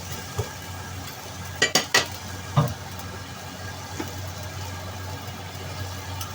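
Garlic stir-frying with carrot and baby corn in a pan, a soft steady sizzle underneath a few sharp metallic clinks and scrapes of a utensil against the pan, close by, with no talking.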